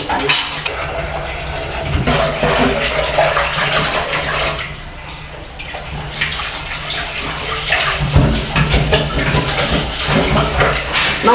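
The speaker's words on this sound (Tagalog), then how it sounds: "Hugasan mo natin yung" Tap water runs and splashes steadily while cooking pots are washed in a home kitchen in Puerto, a continuous near hiss with occasional clatter and no talk.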